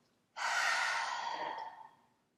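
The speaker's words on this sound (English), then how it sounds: "And then go ahead and exhale." A long, steady exhale during yoga practice, a soft airy rush that starts suddenly, holds for nearly two seconds and then slowly fades, heard up close with no talking.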